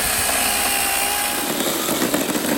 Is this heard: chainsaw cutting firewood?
yes